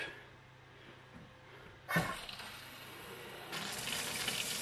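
A newly installed kitchen faucet is turned on partway through, and a steady rush of running water fills the sink after a clunk, rising louder near the end in an otherwise quiet room.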